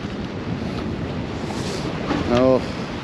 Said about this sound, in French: le vent est relativement fort, mais c'est agréable